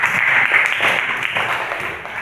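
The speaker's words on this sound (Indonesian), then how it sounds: "Dan tepuk tangan buat Mbak Eva." In a classroom, students clap for a young woman named Eva after her presentation, a modest, somewhat muffled patter of hands that holds steady and then tapers slightly toward the end.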